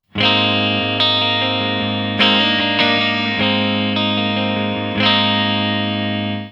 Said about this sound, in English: So that's a really nice and sparkly clean tone.